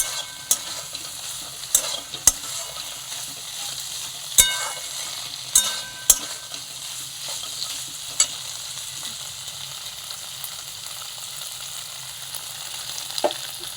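A spice paste of ground cumin, ginger and green chili sautés in a pan with a steady, even sizzle. Sharp scraping clicks from stirring cut in now and then, and no one speaks.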